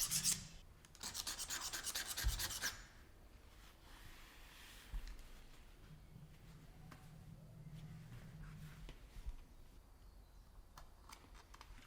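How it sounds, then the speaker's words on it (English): Knife blade rasping old paint off a century-old metal crémone window bolt, with a loud burst of scraping early on followed by quieter intermittent scratches and clicks close by. "let's remove the little bit of paint that was here, that was not removed by the grinder"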